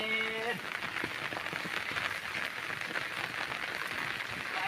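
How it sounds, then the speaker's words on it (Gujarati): Rain beginning to fall, a steady broadband patter on surfaces that runs throughout at moderate level, with a brief tonal sound at the very start and faint voices underneath. "વરસાદ ચાલુ થઈ ગયો છે"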